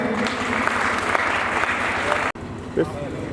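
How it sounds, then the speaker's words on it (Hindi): Audience applause at a Hindi-speaking gathering, steady and dense for about two seconds before cutting off abruptly, followed by a brief murmur and faint voices. "तालियां बजाएंगे, सभी तालियां बजाएंगे।"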